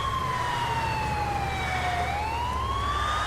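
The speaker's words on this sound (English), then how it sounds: "You nodding your head to the ambulance siren?" A wailing ambulance siren in the video game GTA San Andreas sweeps slowly down in pitch then climbs again, loud and continuous over a low engine rumble, with no voices.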